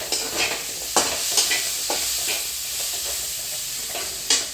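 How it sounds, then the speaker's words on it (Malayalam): Coconut milk going into a simmering potato curry in a pan, a steady close sizzle and hiss with soft stirring and utensil clicks. "ഇനി നമുക്ക് ഇതിലേക്ക് തേങ്ങാപ്പാൽ ഒഴിച്ച് കൊടുക്കാം."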